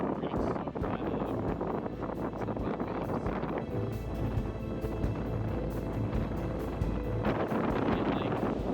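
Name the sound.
strong offshore wind and waves on a boat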